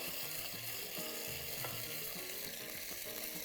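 Garlic and onion fry in oil in a pan with a steady close sizzle and crackle, while rhythmic scraping and clicking from stirring runs throughout.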